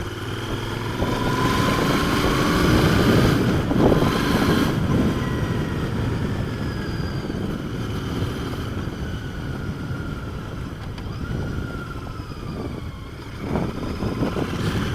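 A Royal Enfield 650 Interceptor motorcycle on the road, its steady engine drone heard from the rider's position under heavy buffeting wind noise, holding a fairly constant level throughout.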